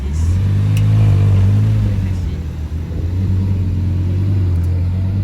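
Audi R8 V10 revving loudly as it drives past near Paris, a deep, sustained engine drone close by that holds steady and then fades slightly, with people talking over it.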